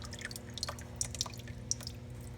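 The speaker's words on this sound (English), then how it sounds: "Just unscrew this, and some oil is going to come out." Motor oil drips from a Mazda 3's unscrewed oil filter into a drain pan, giving soft irregular plinks and patters over a low steady hum.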